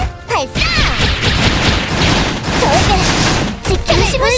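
Energy blasts firing in the Korean action game Closers, a dense barrage of bursts and impacts over about four seconds, with a voice speaking briefly at the start and end.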